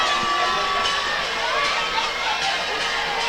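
Steady crowd roar at a high school football game, Newport vs. Osceola, building on a big third down, a dense wash of cheering and shouting that holds loud throughout with no gaps.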